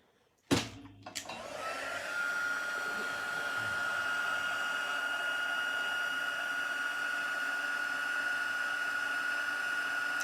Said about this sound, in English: So just heat embossing this just like we did the last time